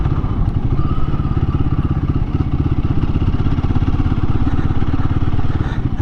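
A Royal Enfield Guerrilla 450 motorcycle on a road ride, its steady mid-pitched engine drone loud and close with a pulsing exhaust beat throughout, slight clatter and wind, no talking.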